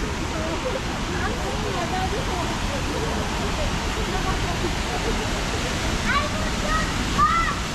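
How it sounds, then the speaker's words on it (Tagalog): Ancaster Mills Falls pours in a steady, full roar of falling water, close and continuous for the whole stretch, with faint voices underneath. "Wow, ang ganda ng falls."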